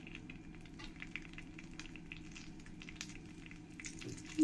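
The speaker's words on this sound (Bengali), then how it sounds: "এবার আমি এর মধ্যে এই গোটা মশলা, তেজপাতা, শুকনো লঙ্কা দিয়ে দেবো" Whole spices, a bay leaf and dried chilli hit hot oil in a pan for a chicken curry, giving a steady, soft, crackling sizzle with a few sharper pops.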